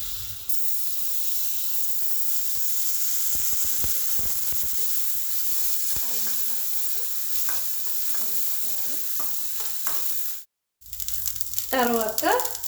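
A spoonful of butter sizzles in a hot kadai with a steady bright hiss that runs throughout, a voice speaking over it, cutting out briefly near the end before the sizzling resumes.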